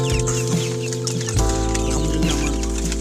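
Local desi hens on a rooftop farm in Narayanganj cluck close by in short, repeated calls over a loud, steady mechanical hum, with no speech.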